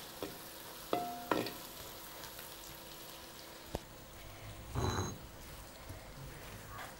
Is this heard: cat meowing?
no